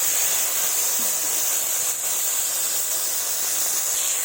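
Okra frying in hot oil, a steady loud bright sizzle that holds evenly throughout with no pauses or voices.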